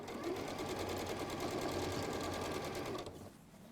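A sewing machine stitching steadily around fabric, a fast even mechanical whir running close and loud for about three seconds before stopping, leaving faint room noise.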